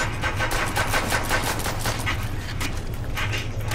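Sustained automatic gunfire in the Nazi Zombies video game, a dense continuous burst of rapid shots running steadily throughout at high, even loudness with no pauses or voices.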